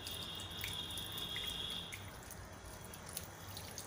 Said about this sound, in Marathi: आता मी यावर थोडं पाणी पण घालून घेते